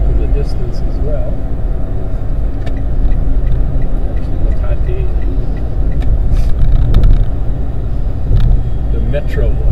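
A car drives along Manila Bay in the Philippines. A steady low road and engine rumble runs throughout, with faint ticks and passing traffic, under someone talking.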